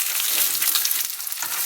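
A Japanese-style rice burger patty frying in a pan gives off a steady, close crackling sizzle with tiny pops throughout and no voices.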